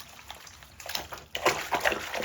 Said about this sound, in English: I'm just going to act like I'm washing my hands